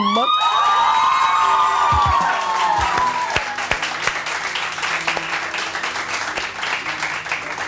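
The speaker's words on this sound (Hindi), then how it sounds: "ये देने के नाम पे लोग चिल्लाने क्यों लगते हैं?" A studio audience at a morning TV show erupts in loud shouting, whooping and cheering, with high excited voices at first, then scattered claps and calls that fade into a busy crowd murmur.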